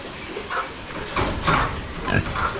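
Pigs on a small farm pen grunt close by in several short, irregular bursts, some louder than others, with no talk over them.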